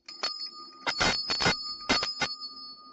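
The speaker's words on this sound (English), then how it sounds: "I ring the bell" A small handheld bell rings in a quick series of bright, clear strikes with sustained tones, close and alone with no talking, during a tarot reading.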